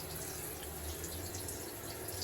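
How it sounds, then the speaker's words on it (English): Water runs steadily from an ensuite shower as hot water starts flowing, giving a constant, even hiss with no pauses and no talking. "So we've got the water coming out now"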